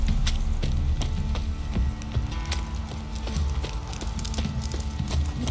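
Horse hooves clip-clop steadily in The Witcher 3 game, a rapid rhythmic trot on hard ground, loud and close throughout with ambient background noise.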